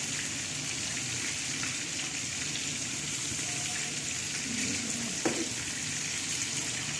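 Steady, close hiss of vegetables frying in a small amount of oil, continuous and even, with a faint clink of a utensil partway through.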